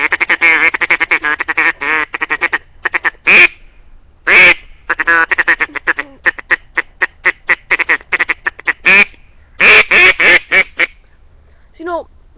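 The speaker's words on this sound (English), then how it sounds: "you could always throw in quacks with it" A duck call blown in bursts of quick, loud quacks, some short rapid runs and some longer single calls, close up with no talking.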